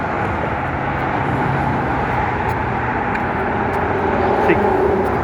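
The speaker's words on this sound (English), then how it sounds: "Quite a bit of traffic traveling along here." Dense road traffic rolls along the Las Vegas Strip on a hot day, a steady broadband roar of passing cars and engines that holds at a constant level throughout.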